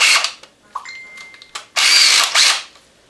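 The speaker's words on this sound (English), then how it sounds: "Back the torque off on my drill quite a bit here" Short bursts of a cordless drill on reduced torque whirring as it drives screws, several brief runs with pauses, the last two longer and louder, close by with no talking.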